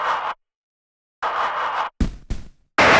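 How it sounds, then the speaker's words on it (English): UJam guitar plugin with distortion and a wah effect, chopped for a vinyl-scratch feel in a Nine Inch Nails "March Of The Pigs" production; short gritty bursts separated by silences, ending in louder abrupt stabs. "So we're using this one that's like a distortion with a kind of wah effect,"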